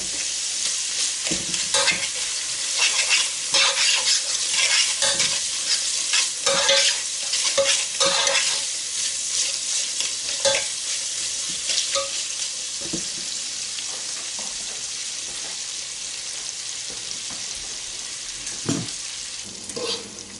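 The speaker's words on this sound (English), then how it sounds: "Keep stirring it. Keep frying it" Food stirred and frying in a pan while making German potato salad, a continuous bright sizzle with repeated scraping strokes of a utensil, close and steady for about twenty seconds with no talking.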